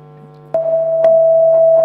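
Layered electronic tones standing for all colours together: a low steady hum joined halfway by a bright sustained pure tone, with faint soft bumps over it.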